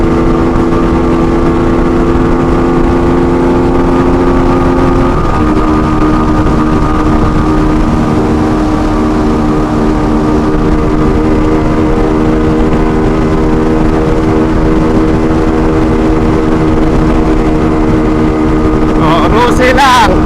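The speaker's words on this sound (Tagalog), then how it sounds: "Naka full throttle si Boss Idol" A loud motorcycle engine at full throttle drones at steady high revs throughout, its pitch holding level with a small shift partway through, close and continuous.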